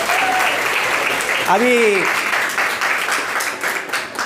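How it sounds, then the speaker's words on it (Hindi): Audience applause at a girls' college prize distribution for a debate competition, a steady broadband clapping wash running the full length, with a brief voice rising over it midway. "तालियों की गोद में इस्तकबाल कीजिए"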